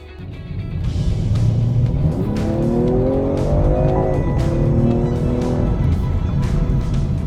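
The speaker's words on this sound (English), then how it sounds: "The note that you get from the engine is just so fantastic. It's growly, it's satisfying, it's got this deep rumble" A BMW M340i sports sedan engine revs up with a deep growl, its pitch climbing and falling as it accelerates, loud and close.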